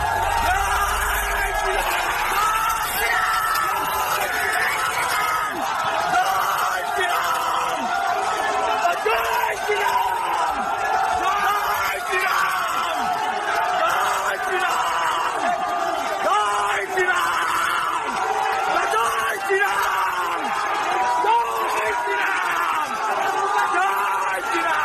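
Large crowd of Hindus shouting and chanting around a police van in Bangladesh, a dense, continuous roar of many voices with yells and whoops, loud and steady throughout.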